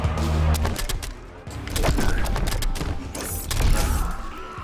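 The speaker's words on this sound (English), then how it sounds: "Throw a snag again and then you can explode it." Predator's snag exploding in Mortal Kombat X: a dense burst of bangs, clanks and mechanical crackle, loud and close, surging in waves over game music, with several sharp blasts spread across the fight.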